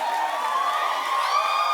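A studio audience at a daytime talk show cheers and shouts, a dense, sustained wash of voices with rising whoops, loud and unbroken throughout.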